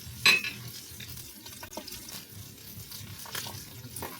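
Salmon fillet pan-fries skin side down, a soft continuous sizzle broken by a clink of utensil on the pan and light scraping, close and fairly quiet.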